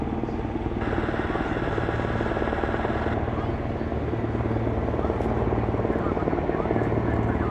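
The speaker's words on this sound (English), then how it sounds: "They do have the helicopter coming in right now." A helicopter arriving over a police scene at a reported kidnapping call in Palmdale makes a steady, loud rotor thrum and whine, continuous throughout with no pauses.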